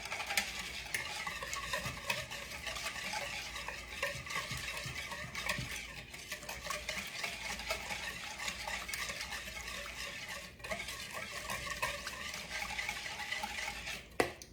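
Chicken being stirred in a cilantro lime marinade with gritty kosher salt, a soft continuous wet mixing and scraping with faint utensil clinks, quiet and close, no talking.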